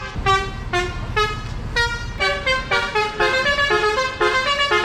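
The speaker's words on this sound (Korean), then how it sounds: "이거 지금 클락션 올려가지고 음악 만드는 것 같은데?" Car horns honk in a rapid rhythmic melody in Bali, loud and close, repeated toots forming a bouncy tune.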